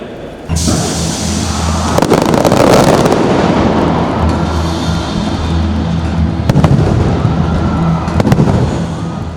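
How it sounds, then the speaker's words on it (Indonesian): A loud fireworks display closing the PON XXI Aceh–Sumut 2024 opening ceremony, with booming bursts and crackling pops over a dense roar of crowd noise, sharp reports punctuating the din. "Acara pembukaan PON 21 Aceh Sumut ini diakhiri dengan atraksi kembang api yang disambut meriah oleh seluruh masyarakat yang hadir."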